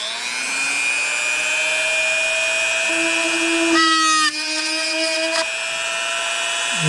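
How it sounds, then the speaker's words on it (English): Power drill boring a hole through a bicycle part during a motorized bike engine kit throttle modification, a loud, steady high-pitched whine with a brief change in pitch as the bit bites through the metal. "Okay, so I'm going to drill a hole in this."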